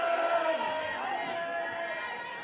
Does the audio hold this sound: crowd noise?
yes